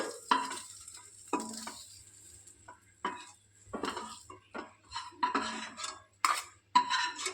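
Fried prawns being scooped out of a hot kadai with a spatula, metal scrapes and clinks against the pan over a light sizzle of oil, in short irregular bursts, close up with no talking.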